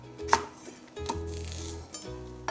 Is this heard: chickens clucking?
no